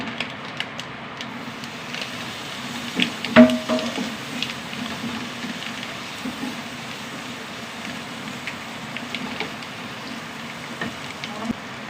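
Steady rain falls outside a home kitchen while tomatoes and spices cook, a soft continuous patter with a few louder clinks of utensils, faint and even throughout.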